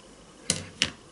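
Scissors cutting a piece of fabric for a stitched prayer cloth, two crisp, close snips about a third of a second apart against a quiet room.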